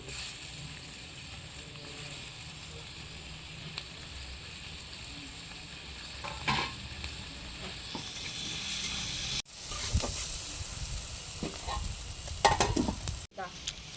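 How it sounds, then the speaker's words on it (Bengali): Onions fry in hot oil in a village kitchen, a steady close sizzle and hiss with occasional stirring scrapes, growing louder and more crackly toward the end. "এই তেলে পেঁয়াজ দিয়ে দিচ্ছি"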